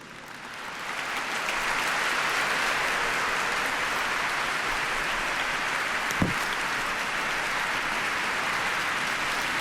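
A congregation at a family Mass applauds the choir and musicians, a steady, dense wash of clapping from a large crowd that swells in over the first two seconds and holds for the rest.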